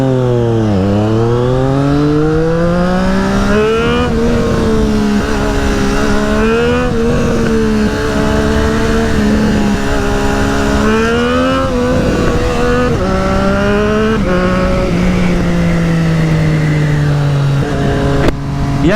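A Triumph Street Triple RS motorcycle fitted with a DNA air filter revs hard through the gears, its engine note climbing and dropping through shifts, loud and close throughout with no talking.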